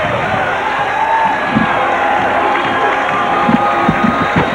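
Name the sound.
boxing arena crowd cheering as boxer walks to ring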